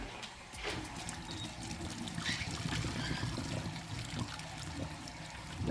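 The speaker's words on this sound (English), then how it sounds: "So you gotta pour the hot water off and then set it in some cold water." Hot water is poured off a pot of salt mackerel in a soft, steady trickle and splash, fairly quiet and continuous for several seconds.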